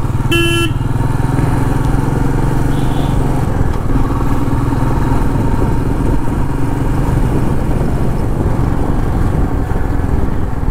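A motorcycle engine drones loud and steady throughout a road trip near Kolkata, with a brief horn blast at the very start and continuous road rumble beneath.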